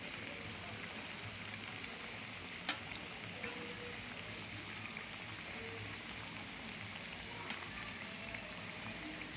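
Bhajia, Swahili-style Kenyan fritters, frying in hot oil, with a steady, even crackling sizzle that holds throughout and a few faint clicks over it.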